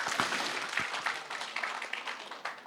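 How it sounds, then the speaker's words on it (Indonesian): An audience at a seminar session applauds, with a steady wash of many hands clapping at moderate loudness for a couple of seconds, with no speech over it. "Tepuk tangan untuk Bapak sekalian."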